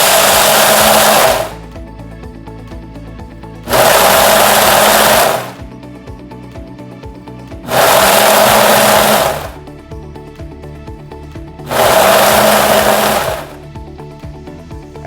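Ninja blender pureeing a breading mixture for homemade dog food, with four loud, even bursts of whirring motor and chopping, each lasting about two seconds, separated by short quiet pauses.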